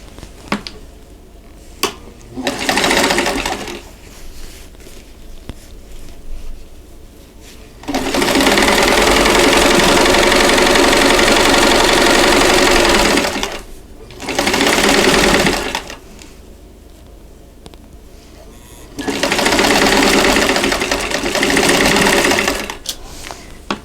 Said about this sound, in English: go ahead and sew these together